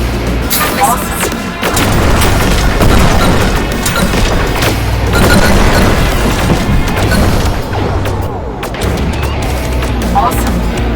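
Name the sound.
missiles firing and exploding in video game Rogue Flight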